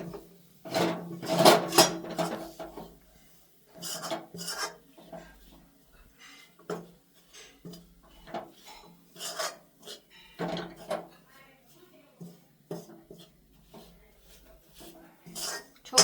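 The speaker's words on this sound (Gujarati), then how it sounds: "હવે એમાં આપણે આ નાખી દેશું મખાના અને કાજુ બદામનો એનો ભૂકો જોતા પ્રમાણે નાખી દેવાનું એને પણ આપણે સારી રીતે હલાવી લેશું" Makhana and cashew-almond powder are stirred in a pan, with repeated scraping and rasping strokes of a utensil against the metal coming in irregular bursts separated by short pauses.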